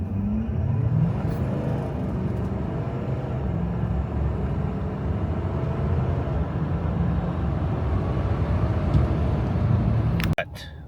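A truck running the Edge Evolution CS2 economy tune on a closed course with a professional driver sends out a steady, loud engine roar and road rumble for about ten seconds, ending with a sharp clunk.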